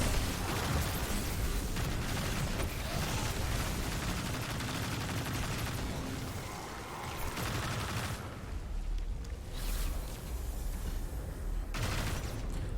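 Gunfire in Destiny 2 as a player shoots runes in the Veles Labyrinth lost sector, a dense, continuous barrage of shots and bursts with explosive pops running throughout, loud and up close with no speech.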